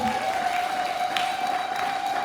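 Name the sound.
church congregation clapping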